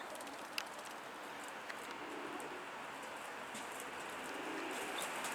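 Pigeons coo softly at a bird market where people are trying to catch a loose bird, a steady bed of crowd and outdoor noise underneath with a couple of sharp clicks.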